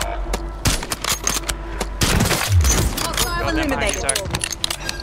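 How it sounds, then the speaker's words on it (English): Rapid gunfire in Call of Duty Warzone crackles in dense bursts over loud battlefield noise and a low rumble, with a voice talking over parts of it. "Wow, they're shooting."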